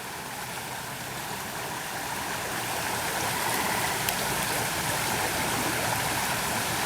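Frog Creek flowing at night just after a big thunderstorm, a steady rushing and gurgling of water close by, loud and continuous, swelling slightly midway with no voices.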